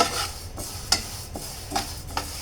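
Four rohu fish heads fry in hot oil in a pan, giving a steady low sizzle broken by several sharp scraping stirs and clinks of a spatula, close up with no voices.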